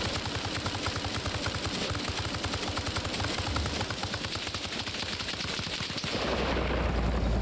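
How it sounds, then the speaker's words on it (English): Sustained rapid machine gun fire in the video game Arma Reforger, loud and continuous bursts for several seconds, ending in a roaring wash of noise. "he's going in with the MG"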